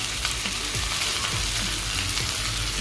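Brinjal and other food sizzling and frying on a Samsung barbecue fry pan, a loud steady crackle and hiss throughout with a few soft stirring scrapes, no talk.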